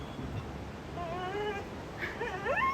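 A dog whimpers softly in a few short, rising whines, with a longer cluster near the end, faint against a low background hum.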